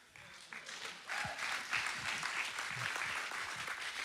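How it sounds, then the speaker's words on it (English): A congregation claps in a large room during a sermon, the applause starting sparse and quickly swelling into steady, moderately distant clapping with a few louder hand claps near the front. "Yeah, you can clap."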